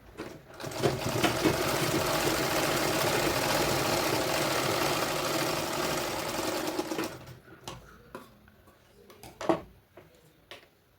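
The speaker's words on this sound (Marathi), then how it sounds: "शिलाई मारून घेणार आहोत आपण" Sewing machine stitching an unlined blouse, running steadily for about seven seconds with a fast even chatter. It stops, and a few scattered clicks and knocks follow while the fabric is handled.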